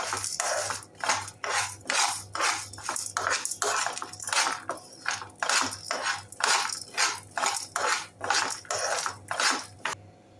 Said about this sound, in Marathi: त्याच मापाने दोन चमचे उडीद डाळ थोडे शेंगदाणे आता हे तीन चार मिनिटं छान परतून घेऊया